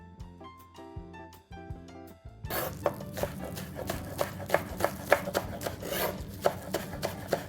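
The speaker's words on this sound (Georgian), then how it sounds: "დავჭრათ ეხლა ცოტა მწვანილი." A knife chops fresh herbs for a Georgian dish on a board, with steady, rapid, close-up strikes. The chopping follows a short opening of plucked musical notes and carries on alone.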